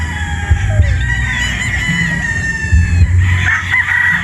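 Boston Roundhead stag rooster crowing repeatedly close by, loud drawn-out calls over a steady rumble of background noise, with other fowl clucking around it.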